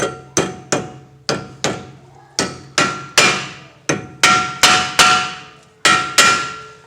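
A series of sharp metallic hammer blows driving a wheel bearing cup into a BMW 325i front hub, about fourteen strikes at a steady, slightly uneven rhythm, loud and close with no talking.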